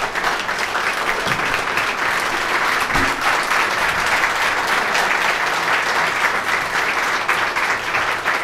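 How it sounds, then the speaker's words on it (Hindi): An audience at a book release ceremony gives a loud round of applause, dense and sustained clapping that fills the room evenly from start to finish. "एक बार ज़ोरदार तालियाँ"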